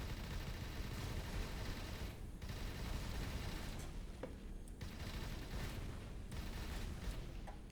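Torpedoes fire in the space game Avorion, a dense rumbling barrage of booms and blasts that rolls on without pause, fairly quiet overall, with a couple of brief dips between volleys.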